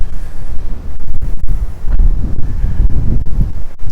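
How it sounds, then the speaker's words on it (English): Strong wind gusts buffet the microphone on a windy downtown corner in Regina beside a tall building, producing a loud, continuous low rumble that surges and dips in level throughout, with no voices. "This is always a very windy corner because of the tall building here, so you can see the wind blowing there,"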